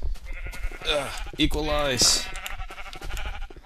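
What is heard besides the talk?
sheep bleating in Minecraft video game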